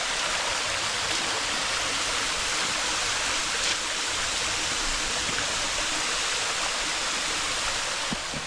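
Creek on the Buffalo River flowing steadily, a dense, even rush of water close by with no other sounds.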